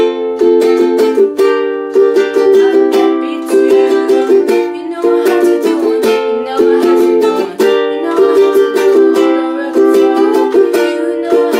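Steady ukulele strumming of the bridge chord progression, the same pattern as the chorus, played close and bright with an even rhythm and no voice throughout.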